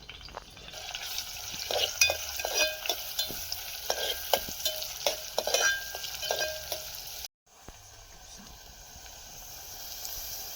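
Onion fries in a pan over a wood-fired earthen stove, a continuous sizzle broken by scraping stirs with a spoon. There is a short dropout near the end, then the sizzle resumes more quietly.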